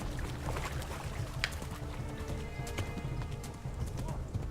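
Horse hooves clip-clop steadily in Kingdom Come: Deliverance while riding, a close, continuous patter of hoofbeats with a brief whinny and game ambience underneath.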